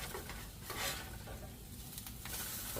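Bologna slices sizzle and spit in a cast iron skillet, a faint steady frying hiss broken by soft scraping and clinks as a piece is turned over.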